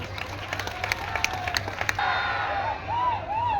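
Audience at the Joda Mahotsav festival clapping: a brief patter of scattered claps fades into crowd noise, with whoops and cheers rising near the end.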